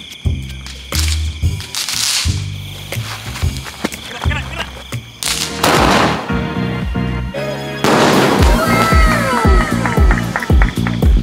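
Sharp bangs and crackling bursts from mid-range consumer fireworks go off in quick succession, some with whistling tails, loud and close, with voices mixed in.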